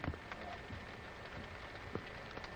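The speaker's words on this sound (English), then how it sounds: "Uh-oh, starting to rain on us." Rain beginning to fall outdoors during a fishing trip, a steady soft patter of drops with a few sharper taps, fairly faint and continuous with no talk.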